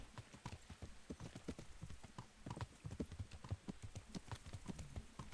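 Horse hooves walking at a steady gait in Kingdom Come: Deliverance, rapid overlapping clip-clop strikes in a continuous rhythm, close but fairly quiet, with several horses moving together.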